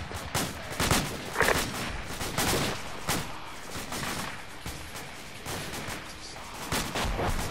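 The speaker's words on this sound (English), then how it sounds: "Enemy fire!" Repeated gunfire in a military shooter video game set at the Battle of Wanat, loud bursts and single shots in an irregular fusillade, with faint voices in the background.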